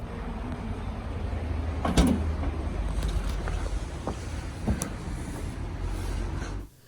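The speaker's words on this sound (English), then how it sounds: "Let's go to the trunk. That will open the trunk." A Tesla's trunk opens remotely with a soft mechanical latch clunk and a sliding, whirring motion, heard faintly over a steady background hum.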